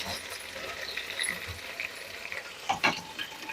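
Chicken wings frying in hot oil, a steady soft sizzle with a few brief stirring clatters near the end, close and moderately quiet.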